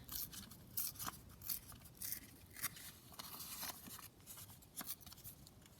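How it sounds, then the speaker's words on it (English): Wallpaper scrap being torn by hand for a junk journal, close and quiet, with a series of short dry rips and crinkles spread irregularly across the stretch, no talking. "So I might just tear that down a fraction"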